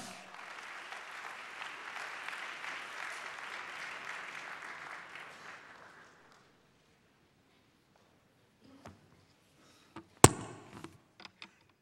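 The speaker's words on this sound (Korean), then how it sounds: "우리 큰 박수로 총장님 모시겠습니다." Audience applause fills a large university chapel hall to welcome a speaker, a dense steady clapping that lasts about six seconds then dies away, leaving a few scattered knocks and thuds.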